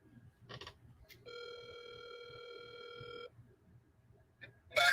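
A telephone rings on an outgoing call, one clear electronic ring tone lasting about two seconds, faint against a quiet background with small clicks around it.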